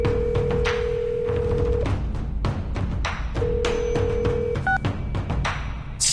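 A telephone in the video game Reverse: 1999 is dialed: a steady dial tone plays, cuts off, returns, then short keypad beeps sound before it stops, alone and fairly loud.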